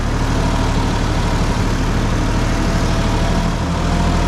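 A tractor in reinforced low gear rolls down a steep highland road in Artvin with no throttle, its engine holding back with a steady, loud, deep drone throughout, close and uninterrupted.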